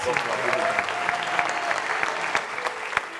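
A TV show audience claps continuously, a fairly loud bed of applause with sharp individual claps standing out, while a voice carries over it in the background.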